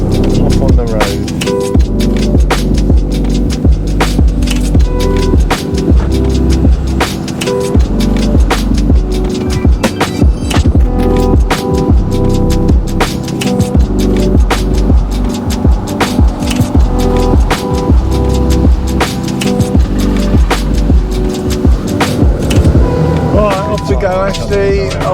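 A rented RV rolls along a road with a steady, loud rumble of engine and tyre noise throughout, with faint rattles and clicks inside the cabin.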